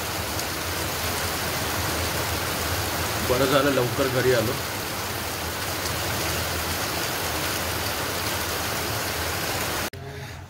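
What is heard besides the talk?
heavy rain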